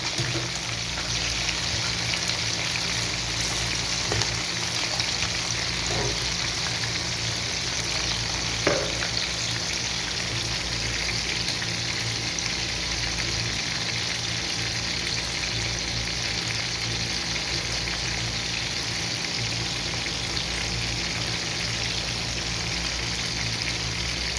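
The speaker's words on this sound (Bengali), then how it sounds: "আমি এখন নেড়ে দিব যাতে সুন্দর মতন ভাজা হয়" Chicken fries in a pan and is stirred now and then, with a loud, constant sizzle running throughout and occasional faint scrapes.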